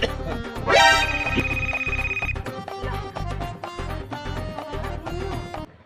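A phone ringtone plays as a loud, steady electronic melody with a rising sweep and a sustained tone, over a thumping rhythmic beat throughout, with no talking.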